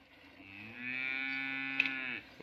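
A single long, loud moo from a Cholistani Friesian cross cow, rising and held for about two seconds before trailing off, clear and close with no talking.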